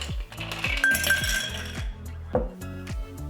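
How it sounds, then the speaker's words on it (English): Ice cubes tumble into a cocktail mixing glass for a stirred Manhattan, a rapid series of close, bright clinks and knocks that slow to a few scattered taps. "We're gonna start by adding ice to the mixing glass."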